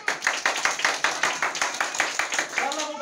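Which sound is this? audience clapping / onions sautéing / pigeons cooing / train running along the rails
audience clapping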